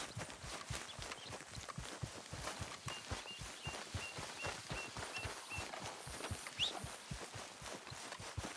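Horse hooves clip-clop at a brisk, steady trotting rhythm in Red Dead Redemption 2, close and even throughout, with faint bird chirps in the background.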